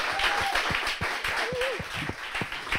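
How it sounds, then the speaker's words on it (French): A concert audience claps for a Christian singer at an intimate evening show, with soft, scattered hand claps over a low room hum and a couple of faint whistles. The clapping sounds fairly distant and modest. "Je vous demande d'applaudir très fort"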